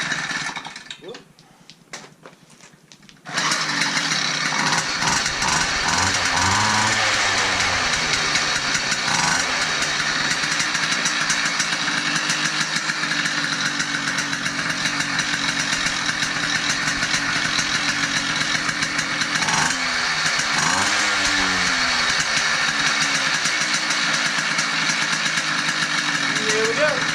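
A motorized bicycle engine catches after a kick start and settles into a loud, steady buzzing run with a rattling exhaust, the revs wavering now and then, after a few seconds of quieter clatter.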